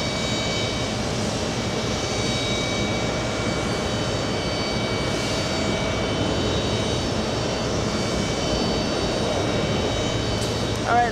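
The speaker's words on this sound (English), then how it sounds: "All right, Lufthansa, out of here." A Lufthansa jet departs JFK Airport, its engine roar a steady broadband rumble that holds at even loudness throughout, with a faint rising whine near the end.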